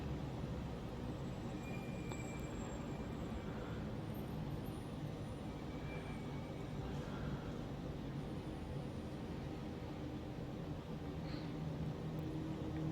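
Class 803 electric train in Lumo livery, a five-car set, idling at London Euston station: a low steady rumble and hum with faint high whines, unchanging throughout.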